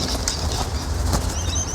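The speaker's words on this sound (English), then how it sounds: "That's the bird there that just landed on that tripod" A bird lands on a tripod with a quick flurry of soft wingbeats, a few close, rustling flaps over a steady outdoor background.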